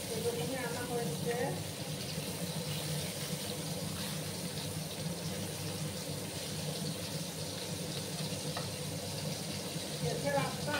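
Small koi fish sizzling in hot oil in a pan, a steady continuous frying hiss throughout, with someone speaking over it.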